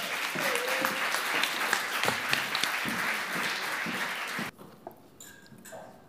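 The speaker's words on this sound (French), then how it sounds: "Merci d'applaudir Salomé." An audience at an eloquence contest applauds a speaker with steady, dense clapping lasting several seconds, then stops abruptly, leaving a quiet room with a few faint sounds.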